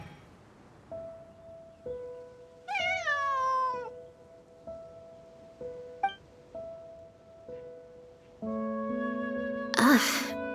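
A cat meows once, clear and drawn out, in a video game, with steady game music and small chimes around it and a brighter effect near the end.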